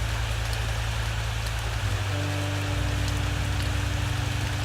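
Rain falls in a video game, a constant dense hiss of drops close up, with a low droning hum underneath and no talk.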